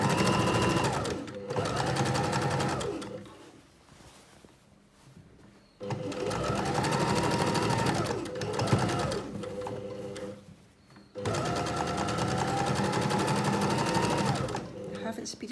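A domestic sewing machine stitches a reversible tote bag, running through the fabric and handles in three fast, steady bursts with short pauses between them, close and loud, while someone talks over the stitching.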